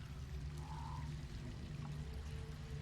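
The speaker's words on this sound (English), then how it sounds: "There's a sound of running water from somewhere" Faint, steady running water from an unseen source, a soft continuous trickle heard at a distance under a low ambient hum, with no speech.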